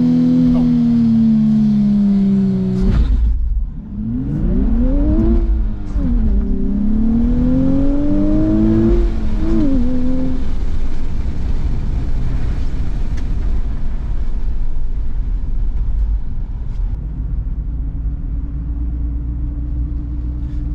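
A 2023 Nissan Z accelerates hard from a launch control start. The engine note climbs loudly in rising sweeps that break at each gear change, then settles into a steady rumble near the end.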